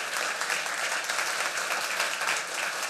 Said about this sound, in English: Give a round of applause to our team led by Wingley, Ali Tabashi.